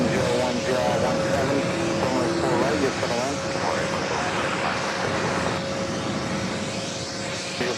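A jet airliner departs JFK airport bound for Portland, Maine, sending a sustained engine roar across the field while radio-style chatter and a steady tone sit over it.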